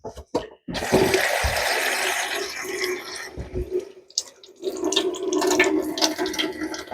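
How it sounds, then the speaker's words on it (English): Water sprays and splashes from the spinning jets of a dishwasher spray arm, a loud, steady hiss and patter that dips briefly midway and then surges again, with a few knocks and drips. "so that water can freely come through there and spin and splash for the cleaning purposes"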